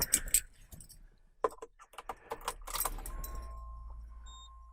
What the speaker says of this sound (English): Last thing we're going to do is start it up let it run, let it warm up